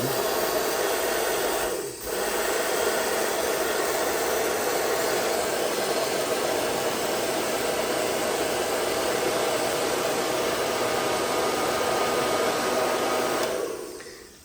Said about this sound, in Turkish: dediğim gibi fön makinesi